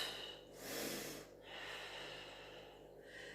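Sharp, heavy breaths during an exercise routine, a loud inhale-exhale burst followed by quieter rhythmic breathing, close and alone.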